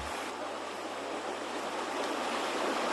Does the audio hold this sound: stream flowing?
yes